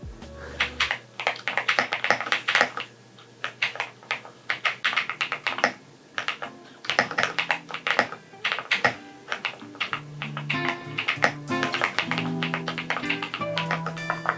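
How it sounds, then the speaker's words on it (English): Rapid clacky typing on an EpoMaker mechanical keyboard, bursts of crisp keystrokes close by with brief pauses between runs. "That is the sound that those TikToks for mechanical keyboards have"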